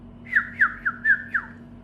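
A person imitates a bird with five sharp whistled squawks in an uneven rhythm, close and clear over a low steady hum.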